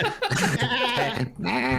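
A voice imitates a sheep bleating: one drawn-out, wavering baa, close and loud, with a brief break before a second quavering stretch.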